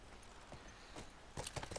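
Horse hooves clip-clopping in the video game The Last of Us, a short run of faint, quick hoof strikes growing slightly louder toward the end.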